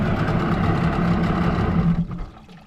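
A dinghy's small outboard motor idles steadily in neutral at low throttle, a loud close rumble that stops abruptly after about two seconds when the red kill knob is pressed, leaving a fading quiet tail.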